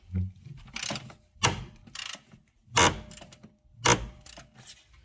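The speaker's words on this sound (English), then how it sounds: "So we kind of use this wrench right there, 3/4, like that, and then we just keep on cranking." A 3/4 wrench is cranked on the rear strut of a Subaru Forester during installation, giving bursts of ratcheting clicks and metallic clatter that come in irregular rhythm, close and moderately loud, with no talk.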